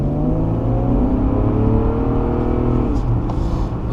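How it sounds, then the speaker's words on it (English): A 2014 Infiniti Q50S Hybrid AWD with a seven-speed automatic pulls hard in second gear, its engine droning loud and steady close by as the pitch climbs slightly throughout. "So we're just plopping it into second gear now, and then we're gonna hit it."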